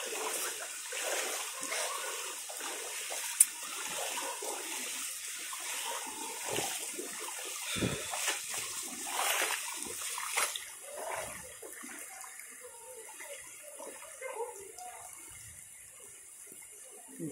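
Water splashes and sloshes continuously as someone wades across a flooded river, about knee-deep, with a steady churning wash that eases off toward the end.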